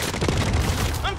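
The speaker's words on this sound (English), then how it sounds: "I'm taking fire!" Rapid bursts of gunfire from the video game Call of Duty Warzone, steady and loud across the whole moment and mixed with other in-game noise.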